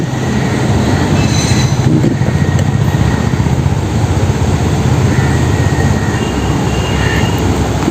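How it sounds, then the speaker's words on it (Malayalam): A train rolls continuously past Uthralikkavu temple in Thrissur, loud and close, with a steady rumble of wagons and faint wheel squeals throughout. "അപ്പോൾ ട്രെയിൻ വന്നു"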